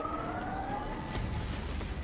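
Sirens spell cast in Wizard101, a wavering high tone with a gliding pitch sweeping over a dense, steady wash of game sound for about two seconds.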